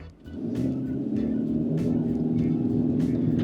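A Mitsubishi Destinator accelerates in tarmac mode, a close, steady engine rumble rising in strength and holding loud through the run.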